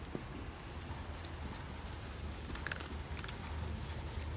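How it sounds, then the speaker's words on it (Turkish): Faint, steady rain patters softly in the background, with a few light drips scattered across the few seconds. "Ben tam videoya başlarken yağmur da başladı."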